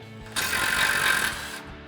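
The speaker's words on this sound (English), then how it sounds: "we'll grab our 21 mil socket on our impact" A 21 mm socket on an impact wrench spins a tie rod nut off a 2021-2023 Ford Bronco during a front leveling kit install, a single buzzing whir of about one second, close and fairly loud against a quiet garage.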